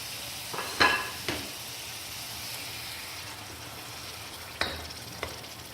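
Pieces of mutton go into hot oil in a pan for a turnip and mutton curry and fry over medium heat, a continuous soft sizzle punctuated by a few sharp clinks of a spoon against the pan.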